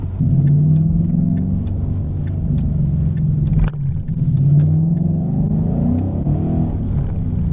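A 2015 Ford Mustang GT accelerates hard on a wet road, its engine note rising twice in steady revving sweeps with a brief tire-spin break in the middle, loud and close throughout.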